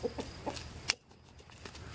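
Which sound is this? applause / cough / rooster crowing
rooster crowing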